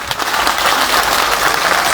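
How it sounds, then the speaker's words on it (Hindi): A crowd at a Jat rally applauds for Ramesh Dalal, dense, loud clapping that stays steady throughout. "एक बार रमेश दलाल के लिए ताली बजाओ आपको।"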